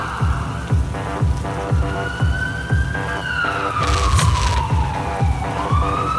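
An ambulance siren wails in a long rising and falling sweep as the ambulance rushes toward a district hospital, loud and close over a steady rhythmic thumping and a hiss like rain.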